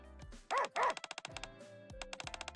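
Dogs in the game Nikke: Goddess of Victory barking in two loud close bursts, followed by a rapid series of short clicking yips.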